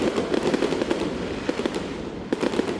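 Dense New Year fireworks crackling and popping continuously, with rapid bursts of firecracker-like bangs over a steady roar, fairly loud and close with no voices.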